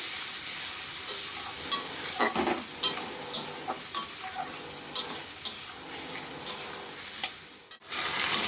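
Spice paste stir-fried with prawns, cashews and raisins in a pan: a continuous sizzle broken by regular spatula scrapes and taps at the pan, close and fairly loud, with a brief dip near the end.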